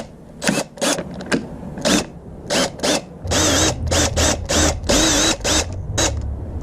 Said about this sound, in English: I'm going to tack it on with the drill now.